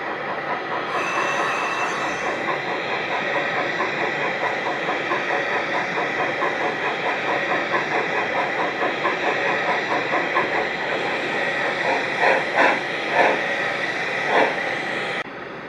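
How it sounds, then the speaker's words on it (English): A large green LNER A1 steam locomotive rolls into the engine sheds with a steady rumbling roar, wheels clattering on rail joints and squealing metallic accents growing more frequent toward the end, heard up close without talk. "Coming to the sheds was an LNER A1."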